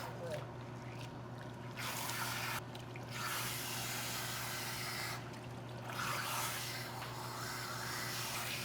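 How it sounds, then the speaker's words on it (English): Water sprays steadily from a salon sink nozzle while hair color is rinsed out, a close continuous hiss with faint splashing that runs throughout under a low background hum. "we are getting ready to rinse it out and shampoo"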